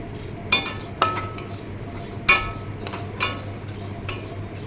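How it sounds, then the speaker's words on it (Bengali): Urad dal is stirred and fried in a kadai, with about six sharp, close spoon scrapes and clinks against the metal over a soft low hum. "তো ডালটাকে আগে ভেজে নিব, নিয়ে তারপরে প্রেসার কুকারে দিয়ে দিব।"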